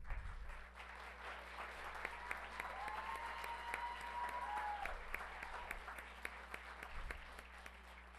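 School principals applaud and cheer at a school district governing board meeting, a sustained round of clapping with scattered whoops heard from across the room, holding steady throughout.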